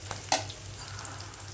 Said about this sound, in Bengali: সব কিছু দিয়ে আমি তেলের মধ্যে ভালো করে ভেজে নিব।